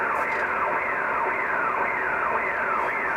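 Strange whooshing interference on the 80-meter amateur radio band, a repeating swept tone sliding through the receiver about twice a second over steady static hiss.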